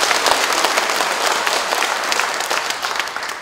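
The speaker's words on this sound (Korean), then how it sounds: "큰 박수로 다시 한번 맞아주시기" An audience at a book talk applauds as the author is welcomed back to the stage, a dense wash of clapping that stays steady and fairly loud for the whole span.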